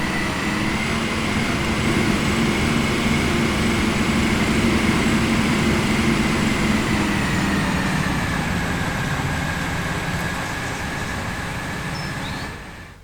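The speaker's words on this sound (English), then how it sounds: "So we've got another train heading as well." A continuous rumbling video game train sound in Transport Fever 2 with steady mechanical drone and faint high whine, loud and unbroken, fading out abruptly at the end.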